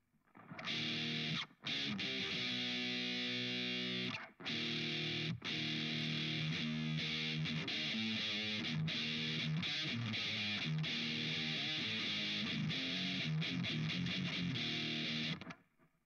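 Heavily distorted electric guitar through an amp simulator set like a Mesa Mark IIc Plus plays sustained chords and a busy riff, loud and saturated, with a couple of brief pauses.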